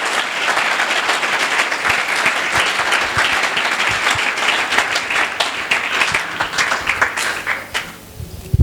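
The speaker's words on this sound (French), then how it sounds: "Can we applaud for the Lord?" A church congregation applauds the Lord, steady dense clapping that fills the space for several seconds before thinning out into scattered claps at the end.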